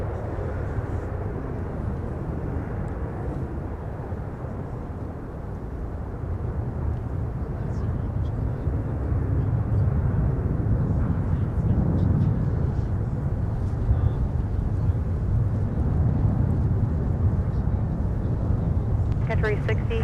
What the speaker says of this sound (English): the Houston Rocket 767 now arriving on runway 12 right from Chicago O'Hare